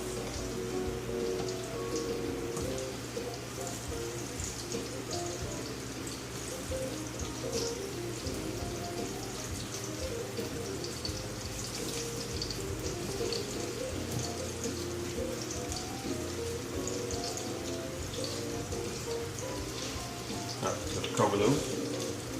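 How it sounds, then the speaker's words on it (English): Potatoes sit cut side down in hot olive oil, crackling and spitting in a continuous dense sizzle, fairly faint, with a person talking over it. "we'll go ahead and add the potatoes to the olive oil"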